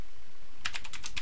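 Quick run of computer keyboard keystrokes, about eight crisp clicks in rapid succession after a short quiet pause, close and clear with no talking.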